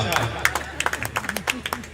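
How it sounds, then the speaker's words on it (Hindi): A few audience members clapping at a comic poetry gathering, scattered light claps over a murmur of the crowd and a speaking voice. "3-4 पढ़े लिखों ने ताली बजाई।"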